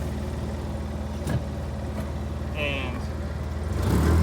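Polaris Ranger XP 700 utility vehicle engine idling steadily after a throttle adjustment, a constant low hum close by while someone talks over it briefly.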